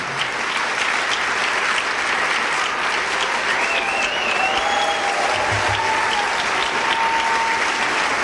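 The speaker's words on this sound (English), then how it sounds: "they're clapping for you and not for me" Sustained applause from a large audience at the 2003 National Book Awards ceremony, a dense, steady clapping texture filling the hall for about eight seconds with faint crowd murmur and brief whistles mixed in.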